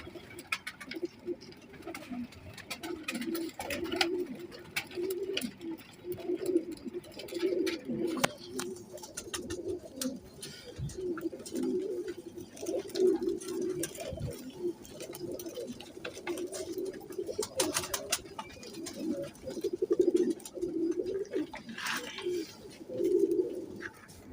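Several Sialkoti and Rampuri breed pigeons coo continuously nearby, deep rolling calls overlapping one another throughout, fairly loud and without any talking.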